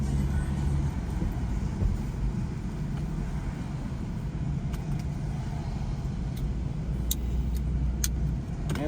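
A car driving in the rain near Niagara Falls, with steady, close road and engine rumble continuing evenly throughout and no voices.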